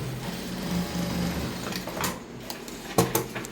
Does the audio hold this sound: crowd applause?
no